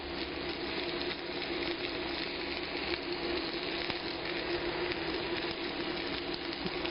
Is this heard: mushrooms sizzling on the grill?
yes